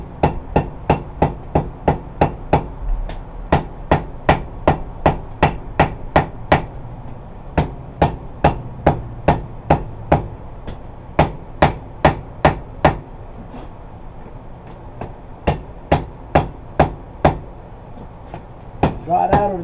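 A hammer strikes hot steel on an anvil while a herb chopper is forged, ringing blows falling in a steady, quick rhythm with short pauses between bursts, loud and close.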